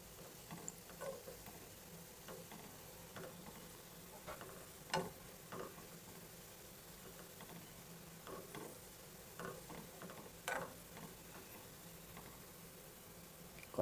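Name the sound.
gulab jamun dumplings frying slowly in oil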